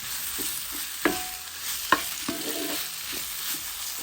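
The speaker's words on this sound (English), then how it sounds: "we're gonna now add our jackfruit into this cast iron" Jackfruit and onions sizzle steadily in a cast iron pan with a soft hiss, broken by a few sharp scrapes and clacks of stirring, close and moderately quiet.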